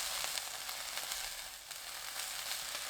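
Bean sprouts frying in a hot pan give off a steady, close, dense sizzle, broken by a few faint bumps as they are turned over.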